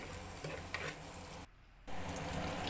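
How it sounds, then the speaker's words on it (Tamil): Small shallots sauté in a pan with a continuous quiet sizzle that cuts out for a brief moment, then resumes slightly louder. "சின்ன வெங்காயம் நீங்கள் வதக்கி எடுத்துக்கலாம்."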